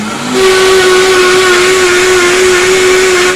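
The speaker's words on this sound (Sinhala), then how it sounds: "දැන් අපි හොඳින් බ්ලෙන්ඩ් කරගෙන ඉවරයි" Blender whirring through zucchini soup, a loud steady high whine with a constant tone and broad hiss, starting softer and rising to a sustained roar throughout.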